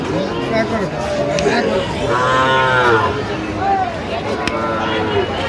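Sahiwal cattle and bull calves lowing at a busy livestock market, several drawn-out moos rising over a constant crowd chatter and nearby voices.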